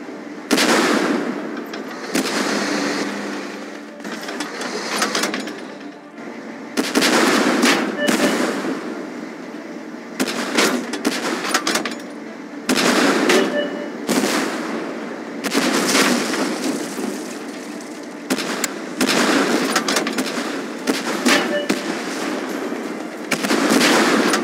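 Video game battle gunfire comes in dense, loud bursts of rapid shots and explosions, separated by brief lulls, with a faint voice underneath at times.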